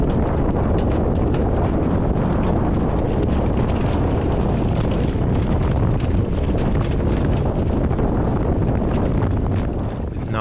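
Strong storm-squall wind roars steadily over a sailboat throughout, loud and broadband with gusty buffeting on the microphone, with no clear speech.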